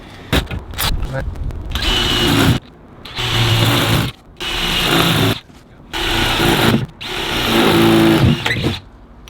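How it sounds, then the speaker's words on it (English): A power drill whirs in five steady bursts of a few seconds each, drilling pilot holes in a van for fitting windows, loud and close, with short pauses between runs. "I'm going to drill some pilot holes"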